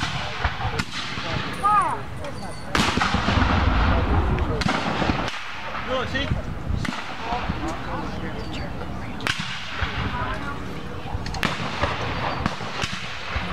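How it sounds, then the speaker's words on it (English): Civil War reenactment cannons in Madison, Indiana fire repeated sharp booming blasts, several loud reports spaced irregularly with rumbling decay between them, and voices in the background. "Cannons."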